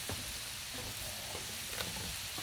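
Ghee sizzles on a hot griddle, a steady crackling hiss with faint scraping clicks, heard alone without talk.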